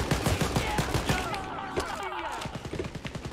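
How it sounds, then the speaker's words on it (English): Enemy gunfire in Wolfenstein Youngblood: rapid, repeated automatic bursts crackle loudly and close, briefly easing in the middle before the steady rattling resumes, with voices faintly mixed in. "I don't understand why they're shooting through my armor so easily"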